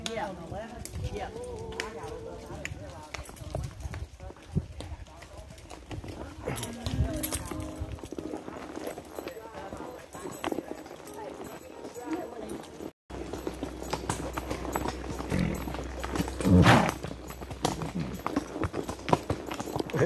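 Shod horse hooves clip-clopping over a rocky trail at Love Valley, North Carolina during a group trail ride, a steady uneven clatter close by throughout, with people talking over it.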